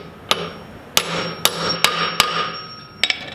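A hammer drives a socket onto a locking lug nut on a Kia Stinger, with about seven sharp metallic strikes at uneven intervals, close and loud, each leaving a short ringing tail in an otherwise quiet space.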